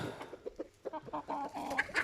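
Roosters clucking in short, irregular bursts, fairly close, with a couple of sharper higher calls toward the end.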